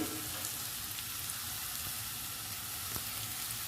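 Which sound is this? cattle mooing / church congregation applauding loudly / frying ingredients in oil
frying ingredients in oil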